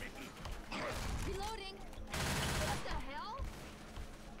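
Rapid gunfire from the Left 4 Dead 2 video game, Blood Harvest campaign, rattles in dense bursts mixed with game sounds while players talk over it.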